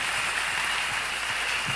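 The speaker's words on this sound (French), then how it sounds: "Acclamez fortement pour les offrandes" Church congregation applauding and cheering loudly for the offerings, a dense continuous wash of clapping filling the whole moment without pause.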